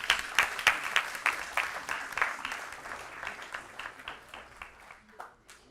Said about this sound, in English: Let's give Alondra and Jayden a round of applause.